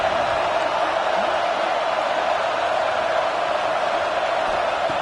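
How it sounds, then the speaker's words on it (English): Stadium crowd at a college football game between Washington and UNT, a steady, dense roar of many voices filling the whole span at constant loudness with no breaks. "Listen to the crowd energy here in the early going."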